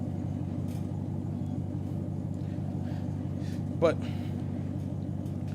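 A truck engine idles steadily nearby as a low, continuous rumble filling the whole stretch, with a short spoken word cutting in briefly near the end.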